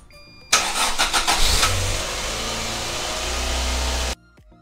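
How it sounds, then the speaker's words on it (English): A car engine cranks with a few quick turns, catches, and settles into a steady loud idle that runs for several seconds before cutting off. "So now I go start the car."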